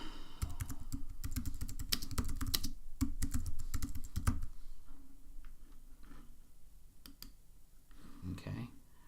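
Fingers type rapidly on a computer keyboard in dense bursts of close, crisp key clicks for about four seconds, then scattered slower taps trail off over quiet room tone.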